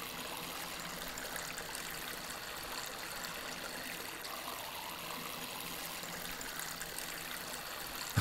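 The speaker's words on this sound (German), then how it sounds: "So, jetzt schön gießen." A watering can pours water over plants in the video game Weed Farmer Simulator, making a steady, continuous trickle and splash that runs for several seconds with no talking.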